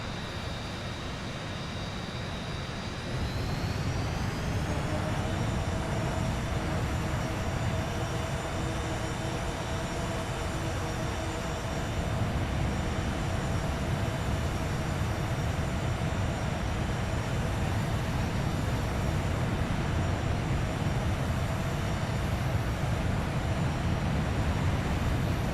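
Avro Vulcan bomber engines in a flight simulator, a steady loud jet whine and rumble that climbs in pitch early on and then holds constant throughout, with no talk.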